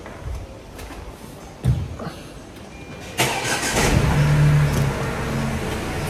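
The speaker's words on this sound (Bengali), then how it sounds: "গাড়ি ওয়ার্ম আপ হোক" A car engine cranks and catches with a sudden burst, then settles into a steady idle as it warms up, following a few quieter knocks and thumps beforehand.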